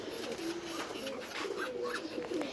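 Soft, low pigeon coos repeat over a murmur of background noise, close by, with faint voices at times.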